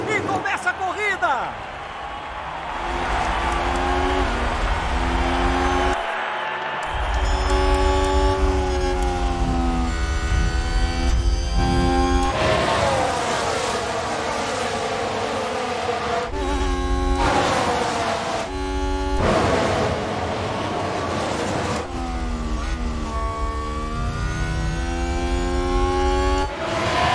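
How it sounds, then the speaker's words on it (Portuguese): A full grid of F1 cars launching off the line at the Japanese Grand Prix in the F1 Manager 2022 racing game: a dense, continuous wall of revving engines climbing through gears, with a commentator's voice talking over much of it. "As luzes se apagam e começa a corrida!"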